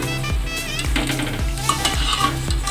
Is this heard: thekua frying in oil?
yes